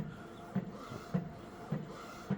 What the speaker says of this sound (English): this is an Epson 1390R printer